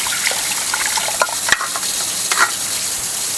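Water runs over soaked, shredded potato to rinse off the starch, a steady close splashing hiss with a few brief louder splashes and clinks, with no talk.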